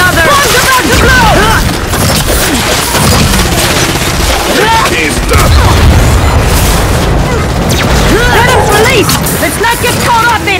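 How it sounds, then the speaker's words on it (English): Loud booming bursts of a bomb blast rumble through the video game Gears 5 amid dense gunfire and battle noise, with game voices shouting over the chaotic din. "Bombs about to blow!"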